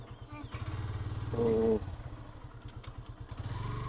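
A motorcycle engine idles and putters close by with steady low pulses, a brief rev partway through, and faint voices in the background.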